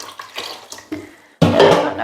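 Water pours into a cooking pot in a home kitchen before the food is set to boil. A sudden loud, steady splashing stream starts after some quieter handling noises and runs alone to the end.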